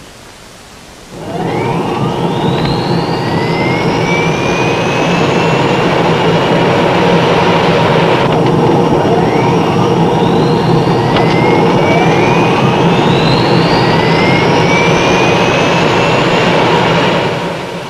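A Navy airplane's jet engines spool up abruptly and then roar loudly and continuously, with rising whining tones sweeping upward several times over the steady blast and no talk.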